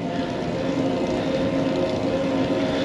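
A steady, continuous electric bicycle motor whine under power on a hard climb, with a constant drone and no pauses, close and fairly loud throughout.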